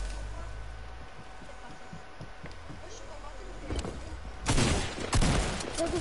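Gunfire in a video game comes as bursts of rapid shots that swell near the end, sharp and loud over a low rumbling background, with a voice talking now and then.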